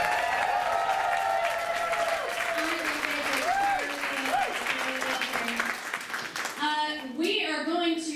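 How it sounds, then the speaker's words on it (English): Steady applause from an audience at a mock presidential campaign event fills the room for about six seconds, then thins out as a few cheers and a voice come through near the end. "Let's give both of our campaigns a round of applause."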